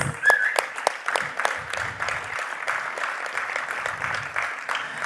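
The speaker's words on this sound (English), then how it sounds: "And for all those whistles coming in, that was great. That's quite an Indian touch coming in the applause." Audience at a panel discussion event applauds steadily, with several sharp whistles piercing the clapping near the start; moderately loud and continuous, with light crowd murmur underneath.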